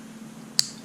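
A new battery snapping into a Mazda key fob, heard as a single sharp, close click against a quiet background hum.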